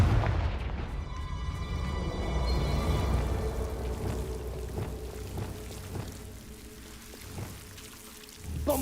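A Confringo fire spell blast in Hogwarts Legacy: a loud booming burst with a pouring, crackling tail that fades into a lower rumbling wash and scattered impacts, no talking.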